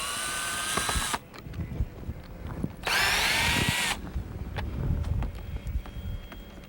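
A power drill backs out the fastening screws of a boat rub rail along the hull, giving two loud, close whirring bursts of about a second each, separated by quieter scraping and handling noise.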